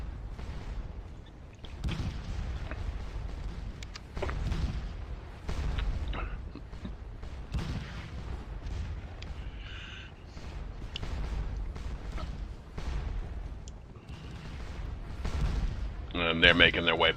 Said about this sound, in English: my cannon is just going to keep kind of blasting you away